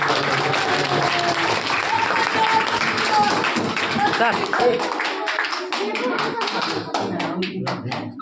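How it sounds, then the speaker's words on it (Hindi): A school audience claps loudly in a dense, continuous wave that thins toward the end into separate sharp hand claps, with some voices mixed in underneath. "जोरदार तालियां"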